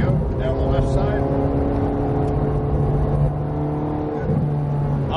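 A Ferrari 430 Scuderia accelerates on a race track, its engine droning loudly and steadily with rising whine, while an instructor's voice talks over it.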